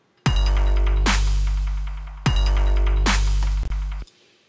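Full drum drop in a track: a heavy kick and clap over a long booming 808 bass that sustains and decays, two loud phrases with the second ending abruptly.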